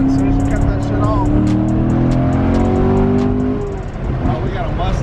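A Corvette C7 roars loudly and steadily as it spins its tires doing donuts and burnouts, with a sustained engine drone and tire noise close by. People talk over it.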